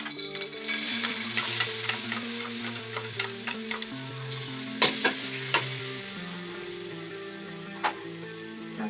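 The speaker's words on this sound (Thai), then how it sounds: "อันดับแรกเราจะใส่ลงไปเลยครับพริกเผาทุกคน" Roasted chili paste frying in a pan for a quick Thai nam prik ong, a steady close sizzle with scattered utensil ticks and scrapes, under a continuous background music bed.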